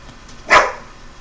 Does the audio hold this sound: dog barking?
yes